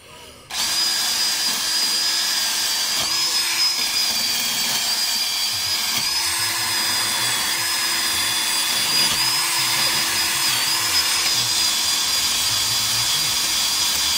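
Cordless drill fitted with CSD rust-removal discs, working on an Opel Omega steering part. It runs as a loud continuous whine after a brief start, with slight pitch dips as the disc bites repeatedly.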